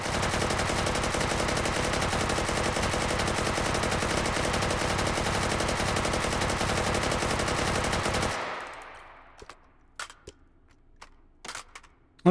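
Sustained automatic fire from an AK-74N rifle fed by a drum magazine in the VR shooter Hot Dogs, Horseshoes & Hand Grenades, a loud unbroken burst for about eight seconds before cutting off, followed by a few sharp clicks and handling knocks.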